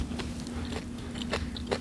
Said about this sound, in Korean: 김치가 이렇게 아삭아삭하죠?